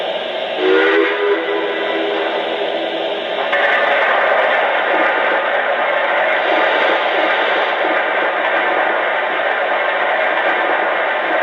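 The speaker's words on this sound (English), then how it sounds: "And here's the sound of coal being added to the tender." On a Lionel Pennsy M1a coal hauler set, the sound system plays coal being loaded into the tender: a continuous loud rushing rumble, with a short tonal blip early and a step up in intensity partway through.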